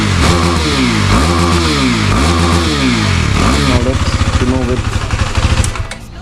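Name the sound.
KTM Duke 390 stock exhaust revving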